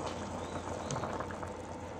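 Water boiling in an uncovered pot with the lid removed, a steady close bubbling and gurgling with a soft seething hiss throughout, no voices.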